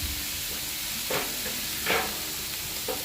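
Vegetables sautéing in a pan for a vegetable soup, a continuous close sizzle broken by three short stirring scrapes, with no voices.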